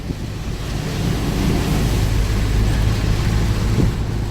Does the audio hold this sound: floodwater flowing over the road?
yes